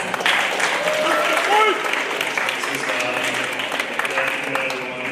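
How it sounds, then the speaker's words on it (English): Audience applause at a middle school awards ceremony, steady crowd clapping with voices and cheers mixed in throughout. "Big round of applause."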